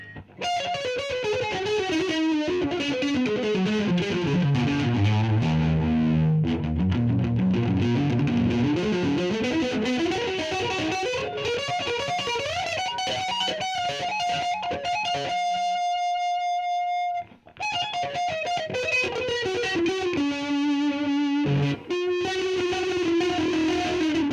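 Electric guitar played through heavy distortion and a Danelectro FAB Chorus pedal, shimmering, with sustained chords and bending notes, loud and continuous with a brief drop near the end.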